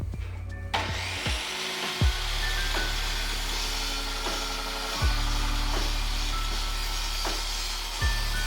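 A power saw cuts down a wooden picture frame, a steady loud whine running throughout with brief dips and thumps roughly every three seconds as the blade passes through or the piece shifts.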